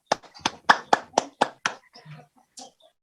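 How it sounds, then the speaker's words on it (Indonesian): Hand claps in a talk show interview, about seven crisp, evenly spaced claps close by, then a few faint scattered sounds as it trails off. "Tepuk tangan dulu buat Bu Esther dan Pak Sandi."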